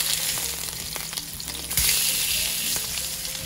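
A salmon fillet sears in a hot pan, a loud, dense, continuous sizzle with a brief scrape as it is flipped, after which the hiss swells slightly and carries on, close and without talk.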